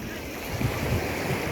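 Sea waves washing onto the beach at Lazarevskoye on a cloudy day, a continuous broad rushing wash with gentle surges, close and fairly loud with wind noise and no talk.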